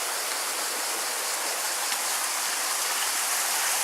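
A mountain waterfall near a rural resort in Montenegro, a dense, steady rush of falling water heard close and loud throughout.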